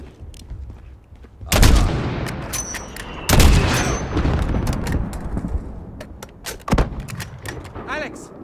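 Gunfire in Call of Duty Modern Warfare: a couple of heavy booming blasts followed by scattered sharp shots and echoing reports, loud and near, with voices talking in between.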